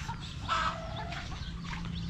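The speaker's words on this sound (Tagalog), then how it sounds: "Pinapakain ni Mahal yung mga manok" On a farm, chickens being fed cluck softly and repeatedly, with a few louder calls rising over a quiet outdoor background.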